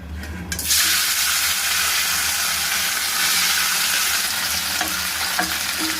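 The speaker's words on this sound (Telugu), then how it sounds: "వీటిని నూనెలో వేసేసుకుని ఫ్రై చేసుకోవాలి." Boiled, dried bitter gourd pieces dropped into hot oil, a loud continuous sizzle of frying that starts abruptly after a brief clatter and keeps hissing steadily throughout.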